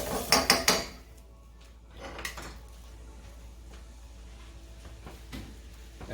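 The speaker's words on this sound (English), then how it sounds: "we'll be scraping the pan" A utensil scrapes and knocks against a pan holding lemon juice reducing for chicken piccata, with a quick run of sharp metallic scrapes at the start, then scattered softer scrapes over a low background hiss.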